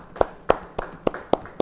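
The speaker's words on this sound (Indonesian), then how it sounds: "beri tepuk tangan buat Tuhan" Church congregation at a Bible study claps in a steady, even rhythm: six crisp, evenly spaced claps in quick succession, loud and close, with no talking.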